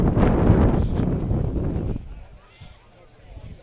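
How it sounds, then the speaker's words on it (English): Gusty wind buffeting a microphone outdoors at a classic car show in York, loud rumbling for about two seconds, then dropping to a softer breeze. "It's a bit windy."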